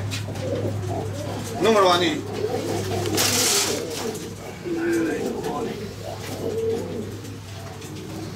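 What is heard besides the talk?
pigeons cooing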